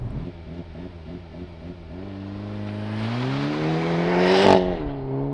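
A Hyundai Kona N makes a launch-control start, its engine burbling in a pulsing idle before surging into a hard, rising rev as the car accelerates away, ending in a brief shift crackle.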